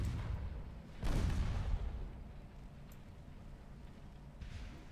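Naval artillery fire in the warship video game Ultimate Admiral Dreadnoughts, a broad low boom swelling then fading into a rumbling background, with faint distant reports later.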